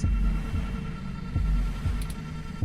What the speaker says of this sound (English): Your heartbeat is like sonar to me. The louder it pounds, the faster I race to stop it.